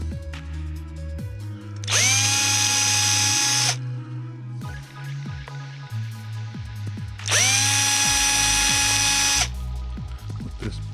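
A small power drill with a 0.5 mm bit boring into walnut on an HMS Bounty model ship build: two steady, high-pitched whirring bursts of about two seconds each, close and loud, separated by a quieter pause.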